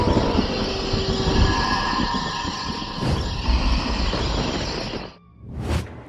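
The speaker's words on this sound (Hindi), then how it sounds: "कुमार और रक्षिता ट्रेन के एक डिब्बे में बैठे हैं।" Train rolling along rails, a loud steady rumble of wheels and carriages with faint squeals that suddenly drops away near the end, followed by a short whooshing swell.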